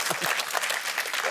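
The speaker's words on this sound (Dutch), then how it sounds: "Applaus voor onze assistent, de slang" Brief burst of applause from a live audience at a Flemish science talk show, dense clapping filling the whole moment at moderate volume.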